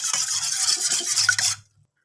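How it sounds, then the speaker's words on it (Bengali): An egg is mixed with salt in a bowl, giving rapid scraping, rubbing strokes close by for about a second and a half before stopping abruptly. "ডিমটা একটু আগে লবণটার সঙ্গে ভালো করে মিশিয়ে নিই।"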